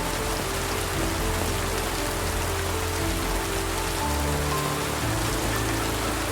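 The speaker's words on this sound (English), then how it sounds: "The rain is pouring down." Heavy rain pours down steadily over narrow city side streets, a dense, unbroken hiss and patter that fills the whole stretch without any voices.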